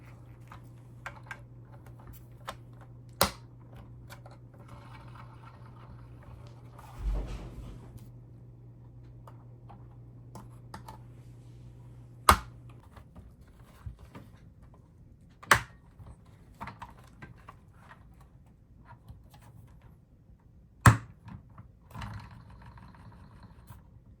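Plastic wheels being pressed onto a GI Joe Classified VAMP toy vehicle, heard as scattered small clicks with four sharp loud snaps spread over the stretch, a low hum in the first half, no speech.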